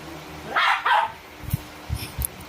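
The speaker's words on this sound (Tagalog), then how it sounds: "Bakit ka ba tahol ng tahol?" A dog barks indoors, with two loud yelping barks followed by several softer, shorter yips and thumps, close to the listener.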